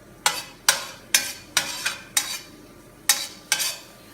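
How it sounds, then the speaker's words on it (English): Onions sautéing in a pan without salt, with a utensil repeatedly scraping and stirring in sharp, evenly spaced strokes, about eight close scrapes over a faint background sizzle. "put the onions over here. I'm going to saute without salt."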